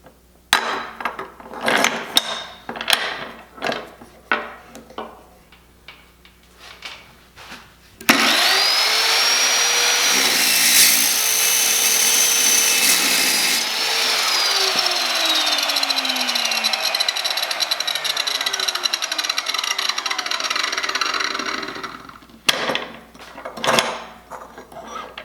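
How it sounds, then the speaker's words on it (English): Trajan Q700 7-inch chop saw cutting through 1-inch square steel tubing: a loud, steady abrasive whine that holds for about fifteen seconds, then winds down, framed by clanks and handling knocks before and after. "Make our first cut on this 1-inch square tubing, and we'll do 1 cut straight and 1 cut with this set all the way over at 45 degrees"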